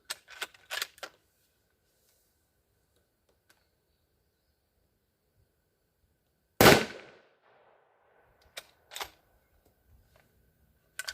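A single sharp, loud crack rings out from a 6.5 Grendel rifle, a Howa Mini Action with a 20-inch barrel, firing a 123 gr ELD-M round into ballistic gel at a rabbit. A few light clicks and handling noises come before and after it.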